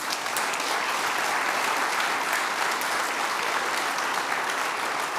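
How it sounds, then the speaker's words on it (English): An audience at an afternoon session breaks into sustained, even applause, a thick wash of many hands clapping at once with no voices over it. "big round of applause"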